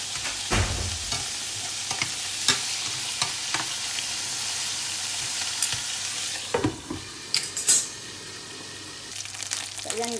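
Catfish frying in an oil-filled pan is turned over for adobo, with a constant loud sizzle, sharp utensil taps and scrapes scattered throughout, and a brief burst of splattering near the end.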